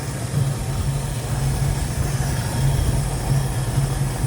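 A restored 1970 Ford Bronco 4x4 with a 302 V8 idles steadily, a continuous low, even rumble that stays close and constant throughout, with no talking.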